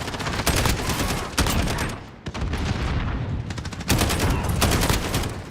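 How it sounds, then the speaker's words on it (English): Heavy gunfire in an online shooter game, rolling volleys of rapid shots aimed at the player, loud and nearly continuous with a brief lull partway through. "Who keeps fucking shooting me?"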